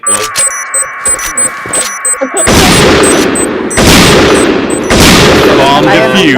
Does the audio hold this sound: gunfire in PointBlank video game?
yes